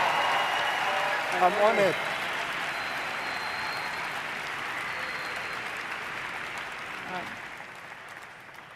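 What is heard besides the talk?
audience cheering and applauding at award ceremony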